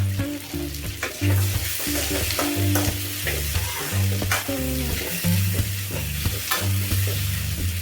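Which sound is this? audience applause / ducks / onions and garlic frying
onions and garlic frying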